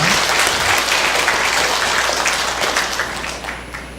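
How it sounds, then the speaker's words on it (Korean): Church congregation at a Sunday service giving the choir hearty applause, loud sustained clapping that slowly tapers toward the end. "격려의 박수 힘차게 한번 쳤으면 좋겠습니다"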